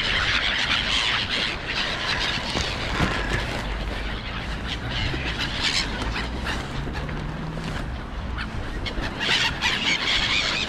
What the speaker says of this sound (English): That sounds like a storm gull.